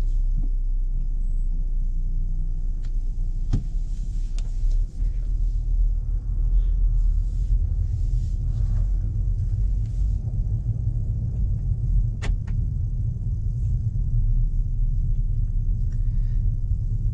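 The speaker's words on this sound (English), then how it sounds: "Just by pressing the accelerator pedal fast, it's going to start the engine." Audi A3 e-tron hybrid starting its engine and pulling away on a highway, a steady low rumble of engine and road noise throughout, close and continuous with no clear rise in pitch.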